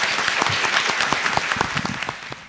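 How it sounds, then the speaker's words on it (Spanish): Dense applause from the audience at a centenary literature colloquium, honouring the panel participants; a continuous, close wash of many hands clapping for the whole short stretch. "les pido nuevamente un aplauso para los participantes de esta mesa"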